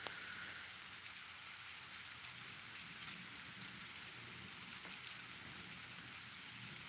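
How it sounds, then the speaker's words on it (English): Icy rain falling outdoors at night, a faint, steady hiss of drops on surfaces that continues evenly throughout with no voices. "especially with the icy rains falling"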